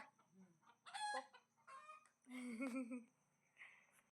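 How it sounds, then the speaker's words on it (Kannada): A rooster crows nearby in a few bursts, with hens clucking around it. "ನೋಡಲ್ಲಿ ಹುಂಜ"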